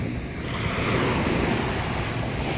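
Ocean surf on a dark-sand beach at La Fraternidad in Tubay, Agusan del Norte, a loud continuous rush of breaking waves mixed with wind buffeting the microphone.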